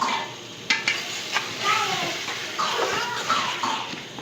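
Tomato masala for a fish curry, with a spoonful of water, is stirred and roasted in a pan: a soft sizzle under repeated scraping and clinking strokes of a spoon against metal, with no talking.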